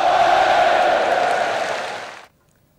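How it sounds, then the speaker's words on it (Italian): Football fans applauding the players from the stands: a dense, steady wash of crowd clapping that fades out toward the end. "La squadra di mister Parlato però viene osannata dai tifosi che applaudono mentre i giocatori salutano a bordo campo."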